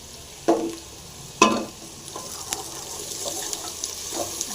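Onion and crushed garlic fry with mustard seeds in oil for a vegetable sambar, a soft crackling sizzle under two loud utensil knocks early on, then lighter stirring scrapes and clicks.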